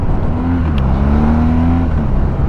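BMW R1200GS Adventure motorcycle accelerating, a steady loud engine drone whose pitch climbs smoothly under constant throttle, heard close and continuous without speech.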